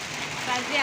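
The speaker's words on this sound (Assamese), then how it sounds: "বৰষুণ পুৰা ধাৰাসাৰ বৰষুণ দিছি।" Heavy rain pours down in a dense, steady hiss, with the downpour swelling slightly louder toward the end of this brief moment.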